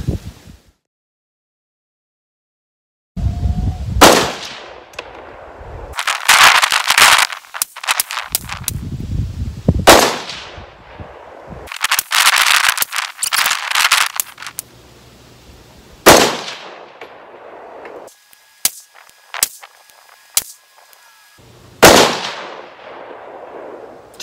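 Several sharp 6.5 Grendel rifle shots crack out at a range, each loud report followed by a short decaying tail, spaced irregularly across the stretch with quieter gaps between them.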